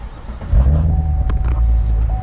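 A Corvette Grand Sport engine cranks and fires up, swelling into a loud, throaty rumble that settles into a steady idle, with a faint high tone over it.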